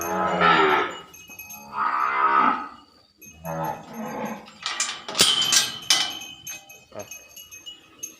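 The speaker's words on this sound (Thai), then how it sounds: "อันนี้ก็จะเอาวัวออกคอกกินหญ้ากัน" Cattle moo loudly and repeatedly up close as the herd is let out of the pen to graze on a Thai farm, with a man calling out briefly between the calls.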